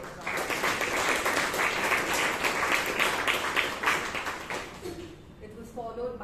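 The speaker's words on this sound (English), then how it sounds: "Let's give a huge round of applause to Toastmaster Chaitra." Audience applause at a Toastmasters meeting in Bangalore: a dense, steady wash of many hands clapping fills the room, thinning out near the end as it fades.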